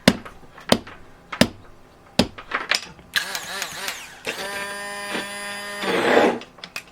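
A KitchenAid stand mixer in a small RV kitchen works a thick tomato sauce: a few sharp knocks first, then a steady, fairly loud motor whine that swells and surges near the end.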